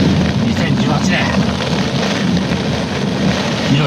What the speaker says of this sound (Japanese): ひどい雨です。